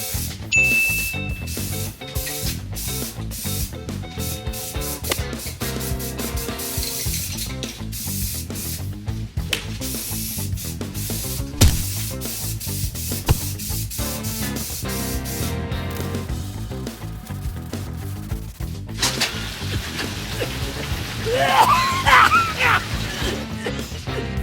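A steady, continuous hiss of spray primer being applied in long passes onto an old metal school locker door, loud and close, with occasional knocks and rattles.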